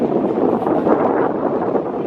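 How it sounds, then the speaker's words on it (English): Steady strong wind buffets the microphone with a continuous low roar, no voices heard. "But it is very windy."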